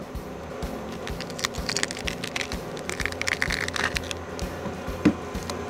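Knife cutting through vegetables for smoke-roasted salsa, a series of close, crisp crunching and splitting slices over a board in an irregular rhythm, with one sharper crack near the end and no talking.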